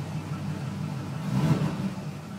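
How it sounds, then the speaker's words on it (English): A car engine in a home garage, the car reportedly misfiring without a trouble code, revved with a few throttle blips: a steady low mechanical drone that swells briefly mid-clip, close and moderately loud. "that's me just romping on the throttle a few times."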